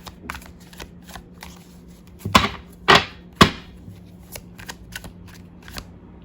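Playing cards being shuffled for a card reading, with a few louder riffling bursts standing out among softer handling taps and rustles, close and alone with no talking.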